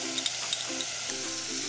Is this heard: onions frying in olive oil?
yes